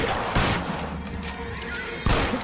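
Gunfire in the L.A. Noire video game: broadband blasts at the start, near 0.4 s and again after 2 s, with a busy layer of smaller shots and noise between them.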